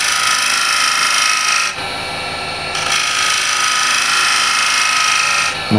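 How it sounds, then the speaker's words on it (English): A hand scraper shear scraping a smooth wood surface, a bright, steady rasping hiss in long strokes with a short pause between passes, close and alone. "We can shear scrape it."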